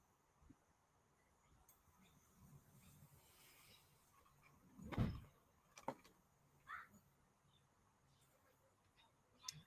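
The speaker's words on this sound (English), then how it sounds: "Then you haven't shut the door properly." A door is pushed shut indoors during a busy animal adoption day: a single dull thud midway, faint against a quiet room, followed by a couple of small knocks.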